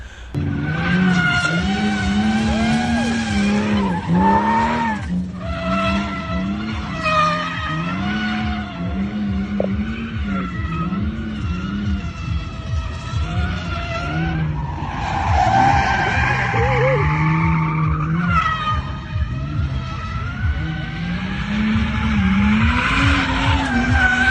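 A lowered, widened BMW E39 drift car driving around a race track, its engine revving and its tyres squealing almost continuously as it slides, loud and close throughout.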